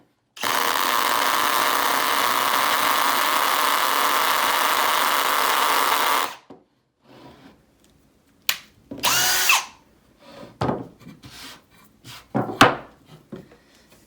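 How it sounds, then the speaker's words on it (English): A power drill whines loudly and steadily for about six seconds as it pre-drills a hole through a knot in wood, then stops, followed by scattered clicks and handling knocks. "So you pre-drill the hole."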